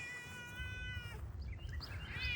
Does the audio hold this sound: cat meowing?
yes